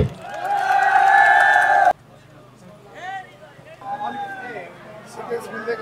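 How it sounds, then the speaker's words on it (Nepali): A crowd at a Shram Sanskriti Party political rally in Khotang, led by a mayor, roars with loud cheering and shouting for about two seconds; then it cuts off abruptly to quieter scattered voices and murmuring. "ताली बजाउनु पर्छ सबैजनाले"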